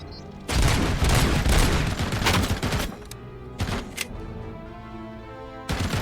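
Heavy enemy gunfire in RoboCop: Rogue City, loud sustained bursts of automatic shots near the player, thinning into sporadic cracks before another burst at the end.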